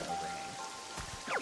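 Rain falling in the Pokopia video game, a soft, faint patter of drops on surfaces with a few brief tonal game chimes near the end.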